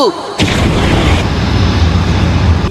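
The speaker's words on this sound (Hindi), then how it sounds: "Fire style fireball jutsu." A Fire Style Fireball Jutsu blast in the Naruto anime, starting with a short rising whoosh and then bursting into a loud, sustained roaring rush of flame that fills the whole clip.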